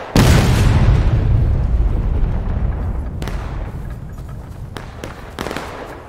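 Civil War reenactment artillery battery fires a cannon: one huge, close blast at the start that rumbles and fades over several seconds, followed by scattered faint cracks and pops of distant shots.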